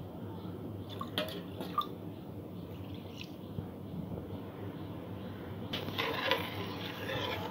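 Water poured into a pan to make sugar syrup for mango malpua, a soft continuous trickle and drip that steadies, then grows a little brighter and louder toward the end.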